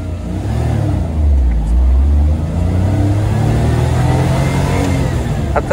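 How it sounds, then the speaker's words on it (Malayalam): The 796 cc engine of a Maruti Omni van drones and rises as it accelerates, heard loud and continuous from inside the cabin with a deep low rumble. "കാല് കൊടുത്ത് അങ്ങ് കയറി കഴിയുമ്പോൾ ആ ഒരു എഞ്ചിൻ നോയ്സ് മൊത്തത്തിൽ അതുപോലെ തന്നെ നമുക്ക് ഒരു ക്യാബിനകത്തേക്ക് കേൾക്കുവാനായിട്ട് സാധിക്കുന്നുണ്ട്."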